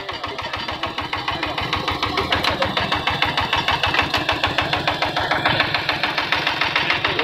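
A power tiller engine drives a rice seeder in a field test in Cambodia, running with a steady, even chugging beat and rattling mechanical ticks close by, with no speech over it.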